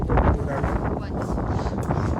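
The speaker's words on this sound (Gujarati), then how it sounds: "ગરમી તો છે પણ પવન બહુ મસ્ત આવે છે" Wind blowing steadily outdoors on a hot day near a dry, rocky riverbed at Gira waterfall, Saputara, with continuous broadband rushing and buffeting against the microphone throughout.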